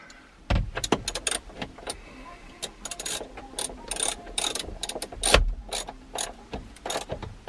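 Clicks and ratcheting mechanical snaps from tightening a connection while fitting a dash cam inside a 2014-onward third-generation Mini F56, close-up, irregular bursts of short sharp taps and rattles.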